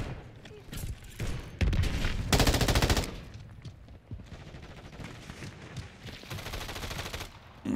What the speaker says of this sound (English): It's a fast weapon, throwing out the bullets.